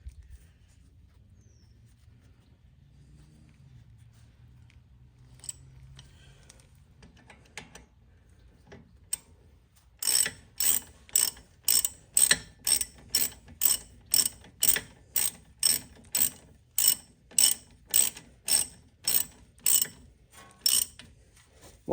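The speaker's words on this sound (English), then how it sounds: "We're going to go ahead and tighten these." A ratchet tightens front brake caliper bolts during a brake pad replacement, giving a steady run of sharp, close clicking bursts in even rhythm, with quiet handling noise before it starts.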